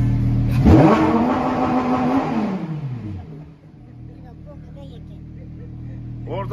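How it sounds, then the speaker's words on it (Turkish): A car engine revs hard at a Dubai car dealership, climbing sharply, holding a strained high pitch, then dropping back to idle after about three seconds, with voices talking over it. "Bas gaza."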